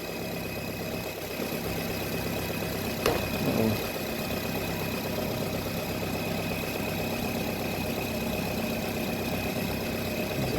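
A Nissan Cube engine idles roughly with a cylinder 3 misfire, a low, uneven, steady drone heard up close, with one brief sharp click partway through and no talking.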